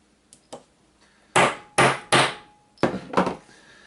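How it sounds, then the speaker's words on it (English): A hammer strikes a chamfer tool seated in a safety cup while handloading .38 Special: two light taps, then several hard, sharp metallic whacks in irregular pairs, close and loud with short ringing decays. "You stick in there with this hammer."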